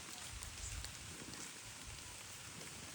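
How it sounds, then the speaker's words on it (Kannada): Steady rain pours down in a Karnataka village, a dense, even hiss of drops on surfaces throughout, fairly soft and with no voices. "ಗೈಸ್ ಹಂಗೆ ಮಳೆ ಬರಕತ್ತಿತ್ತು ನೋಡ್ರಿ."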